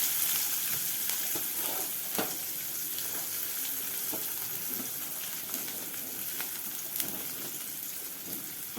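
Onions fry with spices in a pan, a soft continuous sizzle with scattered crackles and occasional light stirring clicks, fairly quiet and close, no voices.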